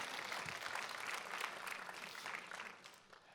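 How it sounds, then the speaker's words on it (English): A church congregation claps for its drama team. The applause is a soft, distant wash of many hands that holds for a few seconds, then thins out and fades near the end. "Let's give our drama team a big clap."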